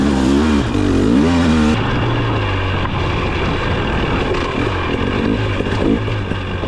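A 2023 Husqvarna TX300 off-road cross-country motorcycle with throttle-body injection runs loud and close throughout, its engine rising and falling as it revs and rides, with wind noise mixed in.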